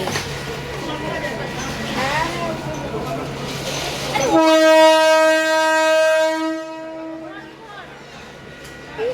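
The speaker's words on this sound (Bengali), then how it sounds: "আরে এই ট্রেন, রাতের ট্রেন।" A night local train on the Shantipur line blares its horn in a long sustained tone over rumbling rail noise, with people talking before and after it.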